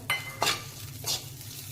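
Fried onion and garlic go into a frying pan and get stirred, giving three short, soft bursts of scraping and sizzle spread out over a low background hum.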